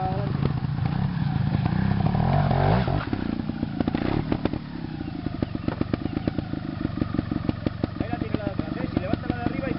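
A motorcycle stuck crosswise and wedged on a rough trail is revved hard, its engine roaring loudly with a steady drone and then sputtering, clattering bursts, while voices shout over it.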